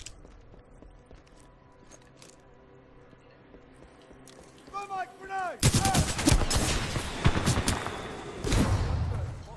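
Rapid submachine gun fire from the video game Titanfall 2 erupts after a quieter stretch of game sounds, forming a dense, loud, sustained rattle of shots with a brief pause before another burst.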